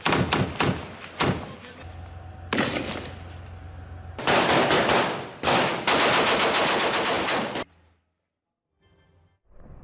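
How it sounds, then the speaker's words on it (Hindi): Israeli army gunfire in Gaza, loud rapid bursts of automatic fire and single shots with sustained rattling volleys, stopping abruptly into near silence with a few faint distant pops at the end. "रास्ते में हमास के जो भी ठिकाने आ रहे हैं उन्हें इजरायली सेना अपनी गोली से शिकार बना रही है।"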